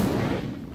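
A fire spell cast in Hogwarts Legacy lands as a single short, sharp burst with a whooshing blast that fades quickly within a second.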